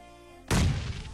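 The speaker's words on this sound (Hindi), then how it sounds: "तो मैं यहाँ पे एक रैंडमली ग्रेनेड कर लेता हूँ" A grenade in PUBG Lite detonates with a sudden loud boom partway through, a broadband blast with heavy low end that lingers as a rumbling tail, preceded by quiet game ambience.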